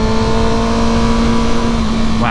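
A 2019 Kawasaki ZX-6R 636 motorcycle engine holds a steady loud drone during a road test ride in second gear at moderate speed, with wind rush over it.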